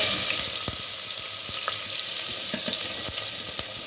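Cumin seeds and garlic frying in hot oil for a tomato gongura curry, with a steady close sizzle broken by occasional crackles and pops.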